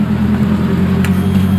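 With the key switched on, a motorcycle's ignition circuit gives off a steady, even electrical hum during a wiring check. The drone is loud and constant, with no talking.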